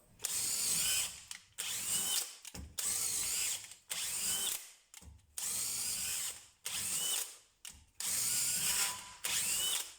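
DeWalt DCD996 drill boring a 10 mm bit into a 40 mm wooden beam, with about seven loud whirring bursts of a second or so each, separated by brief pauses.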